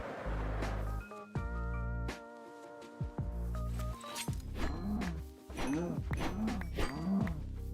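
Cows in the Minecraft video game moo repeatedly, several loud, drawn-out tonal calls in quick succession, some overlapping, close and clear with no talking.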